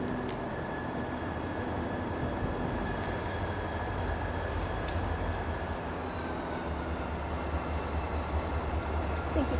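A train approaching Route 128 station rolls on with a steady, heavy, continuous rumble, with a faint high tone running above the low mechanical drone.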